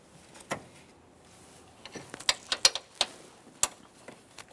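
Ratchet snugging a radiator mounting bolt on a 2015-2019 Subaru Outback 2.5L H4: a few scattered clicks, then a quick burst of sharp, close ratchet clicks in an uneven rhythm, with no talk.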